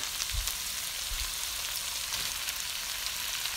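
Carrots and broccoli sautéing in a hot pan, a steady bright sizzle throughout with a couple of soft low knocks early on, close and without talk.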